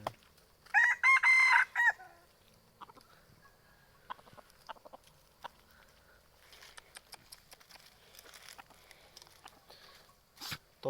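A Nam Nueng jungle fowl rooster crows once, loud and close, near the start. Quiet rustling and light tapping follow, with a sharp click near the end.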